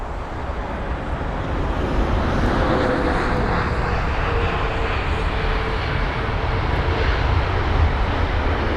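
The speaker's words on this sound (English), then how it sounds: "That was the 787-10 Dreamliner" A British Airways Boeing 787-10 Dreamliner from Seattle lands at Heathrow, giving a loud, broad, continuous engine and air roar that holds steady throughout without a break.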